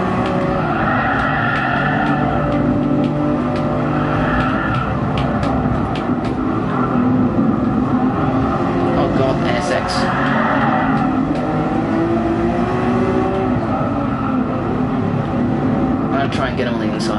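A race car engine roars continuously in Gran Turismo Sport on the Nürburgring during a one-hour endurance race, loud and close, with shifting engine pitch and brief tire squeals while someone talks over it.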